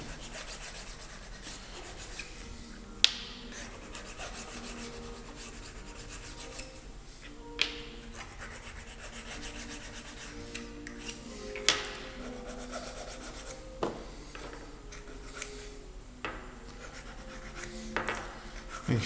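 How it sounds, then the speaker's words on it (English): Hand file deburring a metal blade tensioner part, quiet repeated rasping strokes at an irregular pace with a few sharp metallic clinks, close and alone. "do a little deburring"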